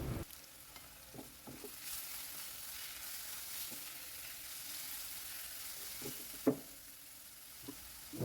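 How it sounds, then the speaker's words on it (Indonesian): Quiet, steady sizzling of carrots sautéing in a pan, with occasional soft clicks of stirring and one sharper clack. "Tumis wortel sampai layu."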